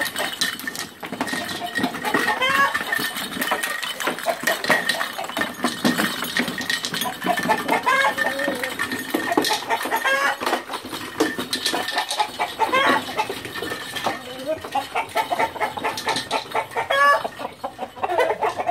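Isaan fighting roosters clucking and calling close by in a busy farmyard, with dense overlapping clucks and squawks throughout and no talking.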